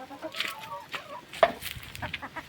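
Domestic hens cluck softly and intermittently at close range, with scattered short calls and one sharper squawk.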